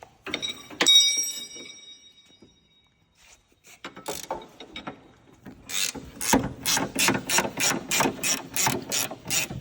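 A ratchet wrench loosening a bolt on a cabover Freightliner truck: scattered metallic clicks and clanks at first, then a loud, steady run of about a dozen rhythmic ratcheting strokes, close by with no talk.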